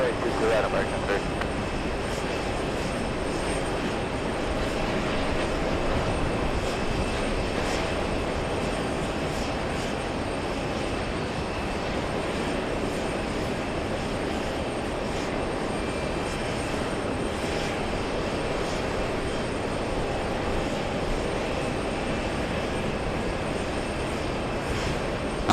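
Jet airliner engines roar steadily at JFK airport near the runway, a loud continuous rumble that lasts throughout.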